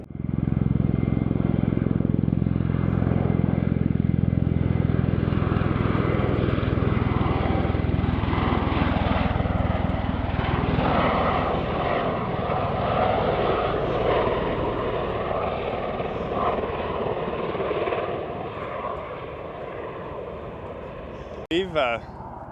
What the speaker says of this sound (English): then there's the plane. Off it goes again.